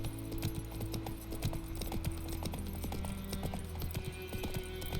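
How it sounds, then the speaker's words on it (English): Galloping horse hooves in The Witcher 3 video game, a steady run of clip-clop hoofbeats over a constant game soundtrack and ambience with no speech. "Once your horse stamina is depleted, you can no longer gallop."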